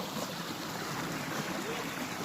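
Clear, shallow stream flowing outdoors in Bicol, a steady soft rush and trickle of water holding evenly throughout, close and continuous with no voices.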